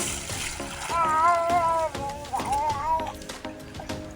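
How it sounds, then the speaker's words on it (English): Home-made guinea corn pap for babies is poured into a cheesecloth filter, giving soft wet splashing and trickling while a person talks over it throughout. "Now we are going to pour it inside this filtering material or cheese cloth."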